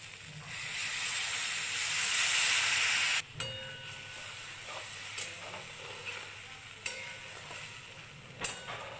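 Water poured into a pan of fried potatoes and spices for curry gives a loud rushing sizzle for a few seconds, then settles into a quieter simmer with scattered clinks of a spoon against the pot.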